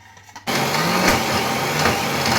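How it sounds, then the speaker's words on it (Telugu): Electric kitchen mixer grinder blending a cooled tamarind and jaggery mixture for ginger chutney, starting abruptly and then holding a steady, loud whirring grind alone for about two seconds. "చల్లారిపోయిన ఈ చింతపండు బెల్లం మిశ్రమాన్ని ఇందులో వేసి ఒకసారి ఆడేసుకోవాలి."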